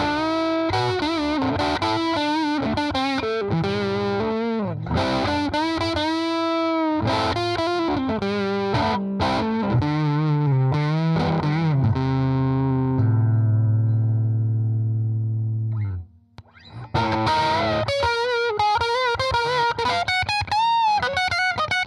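A distorted electric guitar plays a singing lead line through warm tube overdrive, with sustained bent notes, a long held tone, then more phrases.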